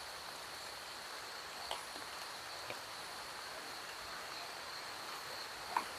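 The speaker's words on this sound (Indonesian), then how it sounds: "Langsung turun hujan sedulur." Faint, steady night rain hisses softly while crickets keep up a thin, continuous chirring, with a few small drip-like ticks; no one talks.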